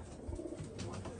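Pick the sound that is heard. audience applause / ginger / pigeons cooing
pigeons cooing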